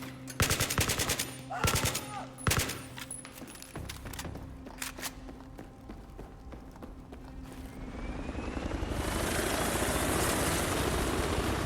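Automatic gunfire from an RPK light machine gun in the video game Battlefield 3, sharp bursts of shots crackling over the first few seconds, then broad rushing noise building toward the end.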